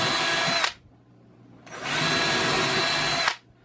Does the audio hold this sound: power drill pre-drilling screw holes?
yes